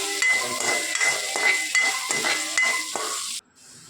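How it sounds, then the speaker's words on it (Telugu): Onions sizzle in hot oil in a pan while a utensil stirs and scrapes in a quick, regular rhythm; the frying is close and steady until it cuts off abruptly near the end. "అదే ఆయిల్లో మనం ఉల్లిపాయలు వేసుకొని ఫ్రై చేసుకుందాం"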